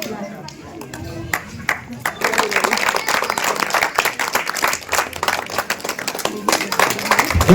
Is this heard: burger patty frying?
no